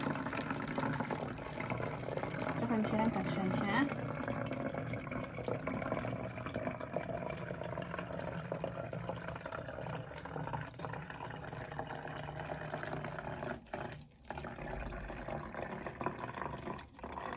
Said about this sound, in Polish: spróbujemy przelać i zobaczyć, czy ta woda zmieści nam się w jednym litrze